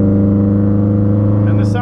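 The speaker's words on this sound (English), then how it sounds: "And the sound of a V8 is awesome." A deep, steady V8 car engine rumble with strong low harmonics runs throughout, loud and close, with a brief higher hiss near the end.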